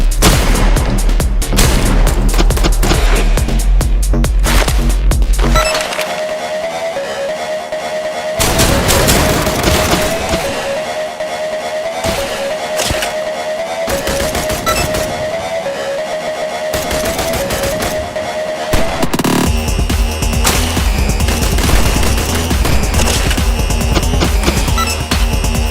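Assault rifle fire in a video game crackles in dense rapid bursts and sustained volleys, with booming impacts and a steady tone through the middle, loud and continuous.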